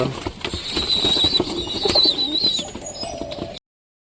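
Low pigeon cooing murmurs beneath steady high-pitched chirping from other birds, continuous and close, with a brief flutter near the end.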